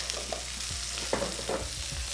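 Steak sears in a hot pan with asparagus alongside, a steady close sizzle broken by a few stirring scrapes, with no voices over it.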